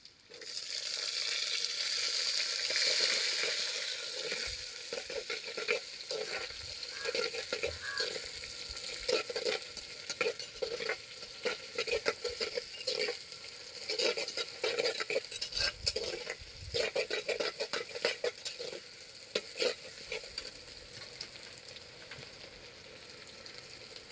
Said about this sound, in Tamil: பூண்டு போட்டுக்கலாம் அடுத்தது வெங்காயம் போட்டுக்கலாம்